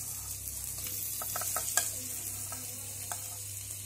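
Boiled potato pieces are stirred into a sizzling cumin spice mix in a pan for jeera aloo, a steady close frying hiss with a few soft scraping stir sounds and one sharper clink partway through.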